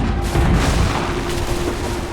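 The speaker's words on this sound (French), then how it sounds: "On nous tire dessus!" Battle gunfire in Assassin's Creed 3 at Bunker Hill, a dense rolling wash of booming musket and artillery blasts blending into continuous loud rumble with a faint tone through it.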